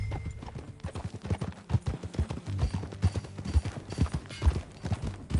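Steady clip-clop of horse hooves at a trotting rhythm in the video game Red Dead Redemption 2, close and fairly loud, with no voices over it.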